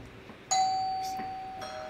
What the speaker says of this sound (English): Don't you hear the doorbell?